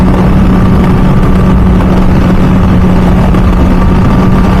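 A 2007 MV Agusta F4 Senna motorcycle with an RG3 race exhaust is being ridden, and its engine keeps up a loud, sustained drone through the whole stretch.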